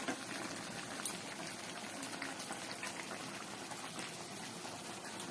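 Chicken curry simmers in a pot, a steady close bubbling and sizzling that runs on evenly without pause and without voices.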